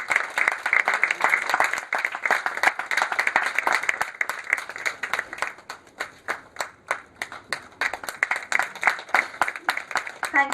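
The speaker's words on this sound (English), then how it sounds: "I think we can give a louder applause." An audience at a women's entrepreneurship and internal security event claps through a felicitation, steady dense clapping that thins into scattered individual claps near the end, with some talk underneath.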